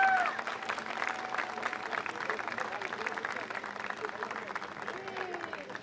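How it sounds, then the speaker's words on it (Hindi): Applause for the artists from an audience at the premiere launch of a television serial, a steady mass of clapping throughout with a faint whistle and crowd voices beneath. "एक बार कलाकारों के लिए जोरदार तालियां प्लीज"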